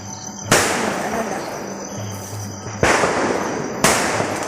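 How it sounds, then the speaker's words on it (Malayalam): Christmas firecrackers and fireworks bursting near a house on a hillside, with three loud, sharp blasts spaced a second or two apart over a constant background hiss. "പള്ളിപ്പെരുന്നാളിനൊക്കെ വെടിക്കെട്ട് നടക്കും പോലെയാണ് ഇവിടെ"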